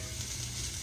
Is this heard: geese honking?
no